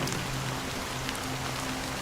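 A dense, even hiss of rain falls without pause, steady and close, with a faint low hum running underneath and no voices.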